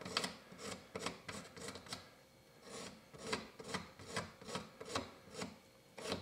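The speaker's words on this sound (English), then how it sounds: "you can either clean it up with your file and sandpaper" A hand file smooths carved pine wood with repeated close, faint rasping strokes, each a short scrape in an uneven back-and-forth rhythm.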